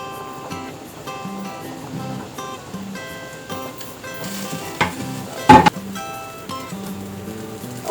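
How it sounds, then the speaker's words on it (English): Onions caramelizing in a frying pan, lightly browned, for a cream of malanga soup: a steady soft sizzle with stirring scrapes throughout and a brief louder clatter near the end, no talk. "I'm gonna go ahead and caramelize, not too much, just a little bit, the onions"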